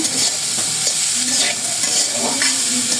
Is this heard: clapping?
no